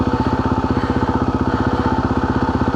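A motorcycle engine revs steadily and loudly up close while being ridden off-road at Rodgers Trough, its rapid pulsing firing rhythm continuous throughout.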